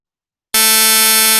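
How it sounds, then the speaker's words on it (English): A harsh, loud computer-generated buzzer tone made from random repeated numbers in Snap, starting abruptly after half a second of silence and holding steady and rich in overtones. "It kind of sounds like a buzzer, but a complex sound, even though there is no sine wave involved"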